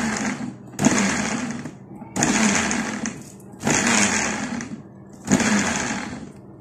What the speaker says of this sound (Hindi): अब मैं पहले थोड़ा सा ब्लेंडर को चलाऊंगी